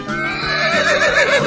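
A horse lets out a single loud, close whinny lasting over a second, its pitch quavering and rising before trailing off, with a faint hint of hoof clip-clop.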